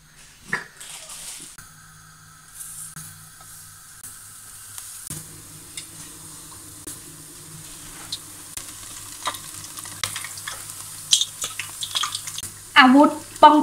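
Artichoke flowers fry in hot oil with a quiet, steady sizzle, and louder splattering pops burst out toward the end.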